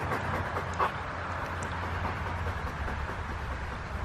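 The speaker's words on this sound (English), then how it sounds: "That's why they're panting so much." Stressed dogs pant rapidly and steadily in a new paddock, a continuous breathy rhythm close by under a low rumbling background, with no talk.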